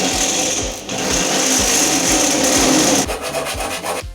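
A drill whines steadily while a step drill bit grinds and rasps through a door, enlarging a hole, the pitch dipping briefly before the cutting noise resumes and fades out.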